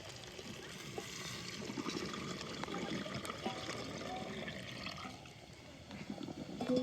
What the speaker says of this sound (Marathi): आता हे वाटून घेतलेलं त्याच्यात पाणी ओतून घेणार आहे.